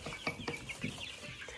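Month-old crested chicks and hens cluck in quick, faint bursts nearby, several short calls in an irregular rhythm over a soft background hiss.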